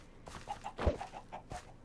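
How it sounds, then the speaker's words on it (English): Minecraft chickens on a small chicken farm cluck in short, repeated bursts, a few soft clucks spaced through the moment, fairly faint with no talking. "He's got a little chicken farm with a farmer, I guess."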